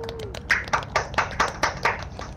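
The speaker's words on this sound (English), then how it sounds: "Round of applause," A quick run of about ten sharp hand claps from a small group at a casual livestream, sounding close and evenly paced, with a whoop at the start and no talk over it.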